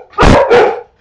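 A neighbor's dog barks twice in quick succession, loud and close, with nothing else audible around it.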